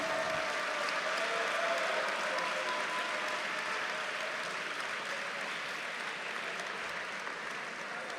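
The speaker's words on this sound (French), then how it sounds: "l'applaudir bien fort, s'il vous plaît." A crowd at a Nova GP jiu-jitsu tournament applauds the winner of the women's absolute final, a steady, dense wash of clapping from across the venue with no voices.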